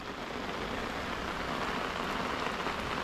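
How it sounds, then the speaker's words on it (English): Heavy rain pours down steadily at a lake during a fishing session, a dense, even hiss of drops hitting surfaces all around with no letup and no voices. "Oh my god, this rain is coming down now."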